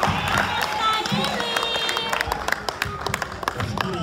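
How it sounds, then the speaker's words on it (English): A church congregation claps during a bilingual sermon, mixed with crowd noise, scattered cheers and a sustained sung or shouted tone, lively and fairly loud throughout. "Can we clap for Jesus?"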